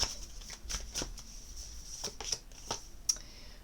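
Deck of Murmure de l'océan oracle cards being shuffled close by, a quiet run of soft riffling flicks and snaps in an irregular rhythm, with a sharper snap near the end and no voices.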